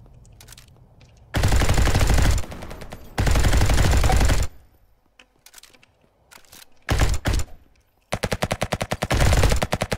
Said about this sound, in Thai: ยังมีตั้งร้อยนัดยิงไม่โดนนะ